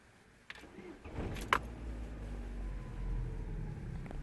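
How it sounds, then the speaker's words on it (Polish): A car engine with a flat battery, started using a UTRAI Jstar One jump starter, cranks briefly with a click and catches, then settles into a low steady idle rumble that continues to the end. "silnik od razu uruchomiony"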